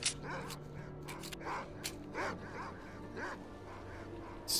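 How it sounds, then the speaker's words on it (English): Several dogs bark and yip in quick, moderately loud bursts in the video game S.T.A.L.K.E.R.: Call of Pripyat, set in Pripyat, against a low ambient hum. "So many dogs."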